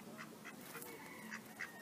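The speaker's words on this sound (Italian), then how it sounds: "Ecco, una papera interessata" A duck quacks a few times beside a river, soft and somewhat distant over a steady background of flowing water and outdoor ambience.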